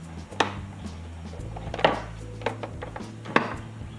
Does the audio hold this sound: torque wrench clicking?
yes